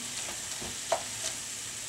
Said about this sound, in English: Just cooking up till the meat is well browned and everything is nicely mixed together